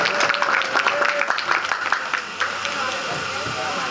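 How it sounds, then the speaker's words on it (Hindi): Crowd clapping at a local political party meeting in Dayalpur, Delhi, a dense burst of applause that thins toward the end, with voices mixed in. "तो एक बार जरा जोरदार तालियां हो जाएंगी नमन पार्टी के लिए।"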